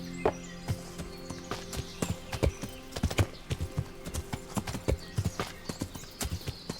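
Horse hooves clip-clop in the video game Kingdom Come: Deliverance, a brisk irregular run of sharp close hoofbeats over steady game ambience and tonal music, with a brief whinny-like sound early on.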